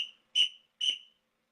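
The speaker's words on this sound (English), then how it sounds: "here's my whistle" Two short, sharp whistle blasts from a referee-style whistle, each a bright shrill chirp about half a second apart, close and loud in a quiet room.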